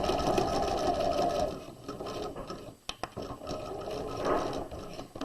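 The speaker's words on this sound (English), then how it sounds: "When we get to the end, we're going to back stitch." A sewing machine back-stitches across a fabric tote bag handle, running in two steady whirring bursts split by a short pause filled with faint clicks, close and without talk.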